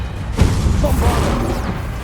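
A Bombarda explosion spell cast in the Hogwarts Legacy video game, a loud booming burst that lands after a short quiet lead-in and rolls on as a dense rumbling blast of game combat.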